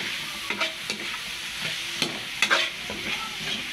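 Pork Bicol Express is stirred in coconut milk in a hot pan. A soft, constant sizzle runs underneath several separate scraping stirs of the utensil, heard close and without talk.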